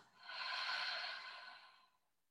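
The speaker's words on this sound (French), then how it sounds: "On est sur une respiration abdominale." One slow, audible breath during an abdominal breathing exercise, in through the nose and out through the mouth, swelling and fading over about two seconds in a quiet room.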